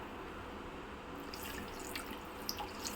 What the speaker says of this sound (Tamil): இப்போ தண்ணி வந்து கொதிக்க ஆரம்பிக்குது பாருங்கள்